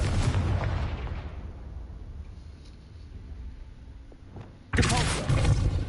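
Blasts from the Confringo explosion spell in Hogwarts Legacy: a loud booming burst that decays over a few seconds, then a second sharp, loud blast near the end.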